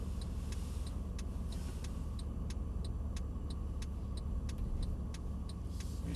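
A car engine runs at a low, steady idle while the vehicle turns slowly around, close and constant, with a regular ticking, like an indicator, repeating throughout.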